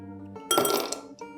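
Ice cubes drop into a glass for lassi with a brief bright clatter and clink, followed by a small second rattle, heard close and alone.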